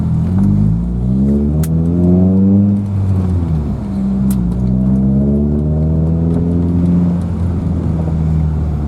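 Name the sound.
car driving off on a test drive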